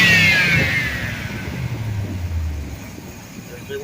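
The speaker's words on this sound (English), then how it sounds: "So now when I rev it," A C3 Corvette V8, fixed after a bogging problem with its emissions control solenoid, revs briefly and then falls back to a low idle rumble, fairly close, with mechanical hiss in the background.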